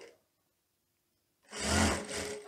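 A sewing machine stitches a sleeve into the armhole of a teddy coat, a short burst of motor whirring that starts after a brief quiet pause and runs for about a second.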